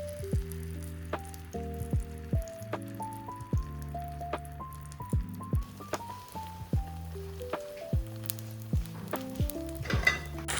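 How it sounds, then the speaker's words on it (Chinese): Shouzhuabing flatbread heating in a pan, a faint sizzle under music with soft plinking tones that largely mask it, and no voices. "手抓饼很简单，锅里热一下就行了。"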